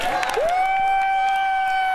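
A wrestling arena crowd cheers loudly for Team Canada, a sustained roar of voices with a rising, held tonal shout riding above it throughout.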